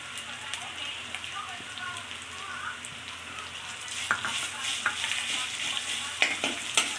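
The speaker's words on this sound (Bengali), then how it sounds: "এবারে কাঁচা লঙ্কা, আদা রসুনের পেস্ট দিচ্ছি" Green chili and ginger-garlic paste frying in hot oil with browned onion, a steady close sizzle broken by sharp spattering pops and stirring scrapes that grow busier toward the end.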